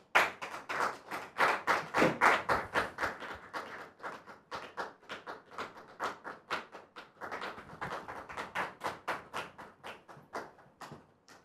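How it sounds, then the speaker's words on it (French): A studio audience claps in quick, dense bursts to welcome a guest's arrival on a French talk show. The applause is loud at first, dips, then swells again before fading, with no talk over it. "Je voudrais vous demander de la recevoir sous vos applaudissements"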